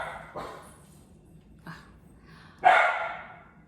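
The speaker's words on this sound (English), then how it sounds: "My dog was barking." A few barks from a dog, two softer ones followed by a louder, sharper bark, in a quiet room.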